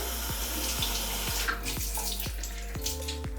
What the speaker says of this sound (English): I have a washcloth here that I'm gonna just dampen with some water.